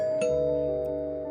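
A doorbell chime rings once, its clear tone lingering and slowly fading in an otherwise quiet room.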